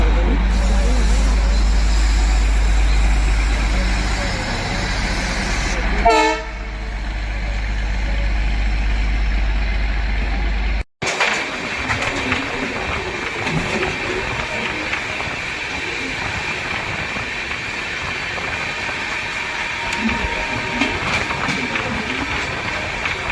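The Malwa Express rushes past a rail crossing, a loud continuous roar of wheels and wagons with a rhythmic clatter of rail joints midway, a sudden brief drop, then sustained rumbling noise close by.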